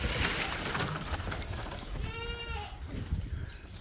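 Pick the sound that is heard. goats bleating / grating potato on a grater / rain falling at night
goats bleating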